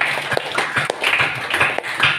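An audience at a church festival claps for children with loud, dense, steady applause nearby, many hands beating in an irregular stream without pause.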